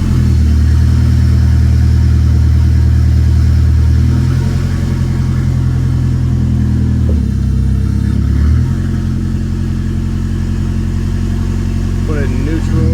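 A turbocharged Dodge Daytona engine runs at a steady loud idle while the transmission is shifted into reverse, the low drone dipping and changing pitch briefly, with a person speaking over it.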